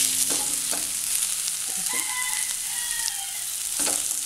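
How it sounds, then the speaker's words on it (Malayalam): Onion sautés in a pan for chickpea masala, a soft steady sizzle broken by a few clinks and scrapes of a spoon stirring, no talking. "ഇപ്പോൾ സവാള ഒന്ന് വഴന്നു വന്നിട്ടുണ്ട്"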